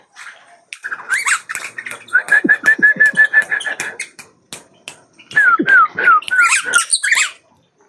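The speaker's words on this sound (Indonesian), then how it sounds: "Ada burungnya di sini nih." A bird sings close by among planted trees, with a lively run of bright whistled notes, repeated chirps and short trills.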